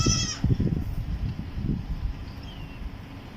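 A goat with kids at a Karachi livestock market bleats once, loudly and close, then shuffling and faint handling noises follow.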